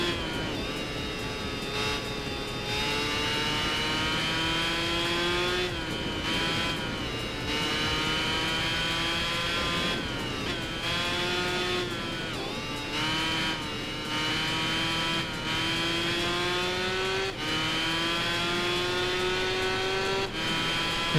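Racing motorcycle engines roar continuously in Tourist Trophy, their pitch climbing through the gears and dropping at each shift, loud and steady with no pauses.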